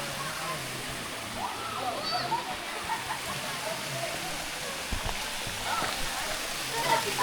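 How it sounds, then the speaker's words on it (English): A small waterfall rushes steadily in a rainy park setting near Lake Catherine and Hot Springs, a constant wash of falling water heard at moderate distance, with faint voices talking beneath it. "A little waterfall."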